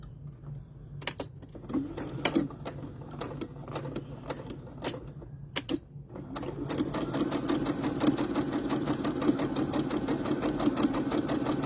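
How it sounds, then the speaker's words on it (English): A sewing machine stitches tulle laid over tissue paper, starting with a few short bursts of needle clatter and then running steadily in a fast, even mechanical rhythm, close and clear. "I always use tissue paper when I'm sewing tulle"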